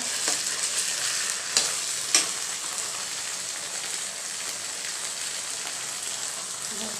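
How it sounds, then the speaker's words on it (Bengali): Ginger-garlic paste stirred in a hot frying pan for a liver bhuna gives a steady close sizzle, with a couple of sharp spatula scrapes early on and no talking. "আদা আদা রসুন বাটা দিয়ে একটু নেড়ে নিচ্ছি"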